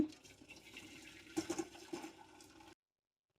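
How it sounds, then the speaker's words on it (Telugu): Cooked vermicelli poured into a rice strainer for draining: a close, steady rush of water splashing through the mesh, with a few sharper splashes midway, before it cuts off abruptly into silence. "ఇప్పుడు దీన్ని ఇలా మన అన్నం వడకొట్టుకునే జిబ్బులో వేసి వడకొట్టుకోవాలి"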